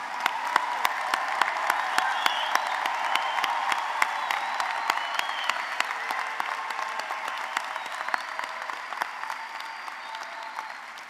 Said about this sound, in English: Let's start our program by giving our graduates a round of applause.